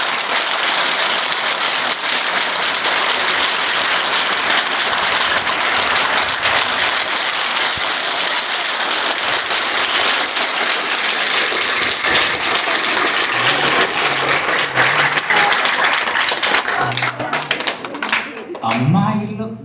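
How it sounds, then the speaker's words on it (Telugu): Loud, sustained clapping from a group of school students at a Zilla Parishad high school, a dense continuous wash of hand claps that runs steadily and thins out near the end. "ఒక్కసారి గట్టిగా చప్పట్లు కొడతారా?"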